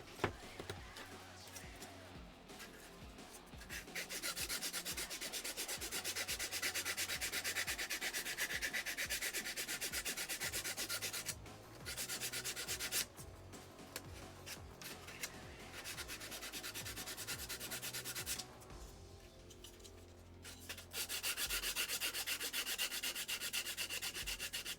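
A handheld sandpaper block rasps back and forth in long, steady scraping strokes, broken by a few short pauses, close and continuous throughout.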